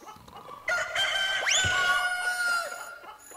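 A rooster in a video game crows once, loud and close, with a rising then long held call, followed by a short clucking tail and no talk.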